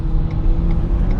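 Renault Zoe electric car at wide open throttle on the Nürburgring, a steady low road and motor rumble with a faint high whine, heard from inside the car.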